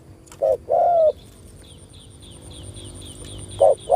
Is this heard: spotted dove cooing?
yes